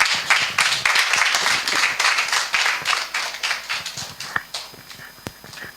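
A church congregation applauds and cheers in a dense, sustained burst during a prophetic service. The clapping thins into scattered claps toward the end.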